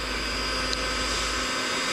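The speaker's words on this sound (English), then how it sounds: "Got a heat gun." A heat gun blows hot air in a steady, close, continuous whoosh with a low motor hum underneath, holding an even level for the full two seconds with no talk.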